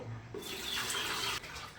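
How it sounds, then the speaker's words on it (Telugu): Three litres of water pouring into a bucket, a brief, close splashing rush with no voices. "వాటర్ అనేది త్రీ లీటర్స్ బకెట్లో వేస్తున్నాను"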